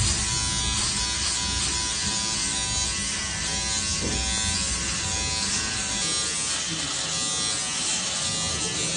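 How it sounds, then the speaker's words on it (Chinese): Electric shaver buzzing through a beard, a loud, continuous close-up hum with scratchy texture that persists throughout while people talk over it. "你每天刮胡子的时候没有那种舍不得的心情吗？"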